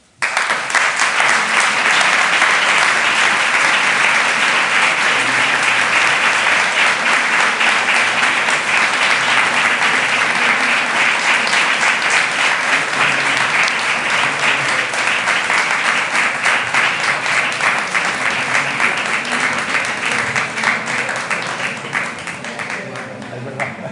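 Sustained applause from an audience after a lecture on the Renaissance sculptor Pietro Torrigiano: dense, steady clapping that stays loud throughout and thins slightly near the end.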